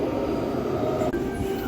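A subway train pulls into a station in Taiwan with a loud, steady rumbling roar of wheels and carriages close by, and no one speaking.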